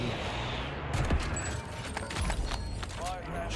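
Shotgun blasts in Call of Duty on Rebirth Island: a few sharp, loud bangs amid game noise and other gunfire, with players talking over the action.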